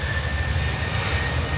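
A Boeing 737-800 jet departs Manchester Airport, its steady engine roar and low rumble heard from a distance, continuous and fairly loud, with no talking.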